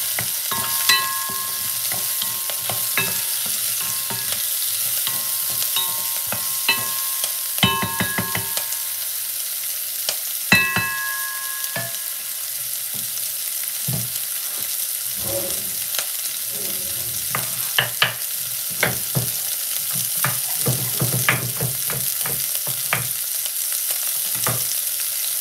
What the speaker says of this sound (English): Yeah, give it a stir.